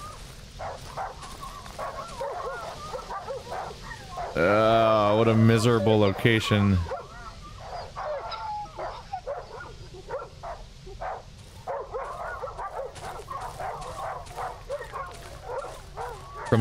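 A dog whines and yips in the dark survival horror game Darkwood, a tonal whimpering burst in the middle standing out over a low eerie ambience, with someone talking before and after it.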